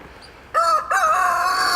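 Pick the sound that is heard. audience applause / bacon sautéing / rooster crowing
rooster crowing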